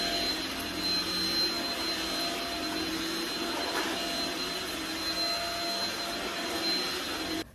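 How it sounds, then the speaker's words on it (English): A household vacuum cleaner runs continuously up close with a steady, whining whir and a high tonal hum, cutting off at the very end, and no voices over it. "And now I want to vacuum."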